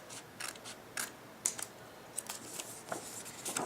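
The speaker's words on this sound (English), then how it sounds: "I'm going to go and cut from the midpoint here and straight down." Scissors snipping flaps off a ziplock bag, a quiet scattered series of small clicks and cuts at close range with no talking.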